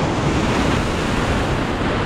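Ocean surf breaking on the shore at a fishing spot in Ballina, NSW, Australia, a steady loud wash of waves with wind buffeting the microphone throughout and no speech.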